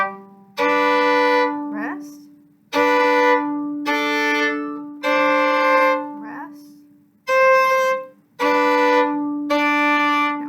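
Solo violin plays a variation from de Beriot's Air Varie in Etling's arrangement, NYSSMA Level 3: bright bowed phrases of sustained notes in short bursts, each separated by brief rests, close and clear.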